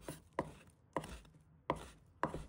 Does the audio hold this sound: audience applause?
no